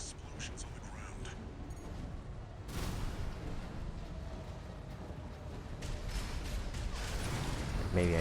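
Explosions rumble and boom through a battle in the video game Armored Core VI: dense, continuous low thunder with louder surges partway through and near the end.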